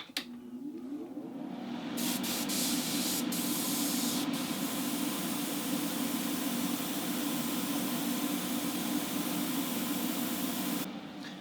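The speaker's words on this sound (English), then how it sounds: "I'll just force it dry with my airbrush" An airbrush blows a constant rushing hiss of air over chameleon paint on a 1:64 Matchbox Vista Cruiser model car, close and even for about nine seconds before cutting off.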